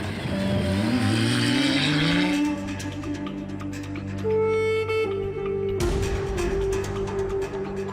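A Dacia Sandrider rally car engine revs and accelerates close by, pitch rising through gear changes, with a brief burst of rough noise near the end.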